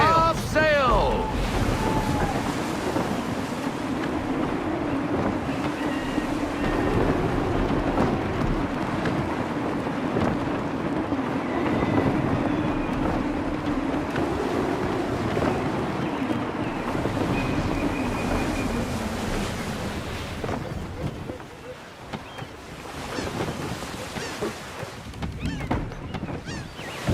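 Wind gusts and surging waves around a sailing ship under way at sea in the game Assassin's Creed III, a steady loud rush of water and wind noise throughout that dips briefly near the end, with a voice talking over it.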